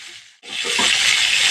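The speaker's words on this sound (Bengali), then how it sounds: "মিডিয়াম ফ্লেমে পটলগুলোকে ভেজে নিচ্ছি" Pointed gourd (potol) pieces hit hot mustard oil in a pan over a medium flame and set off a loud, steady sizzle. The sizzle carries on without a break after a brief quiet moment.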